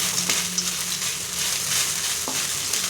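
Deep-fried potatoes get stirred into fried rice in a hot pan, a continuous close sizzle broken by a couple of scraping spoon strokes.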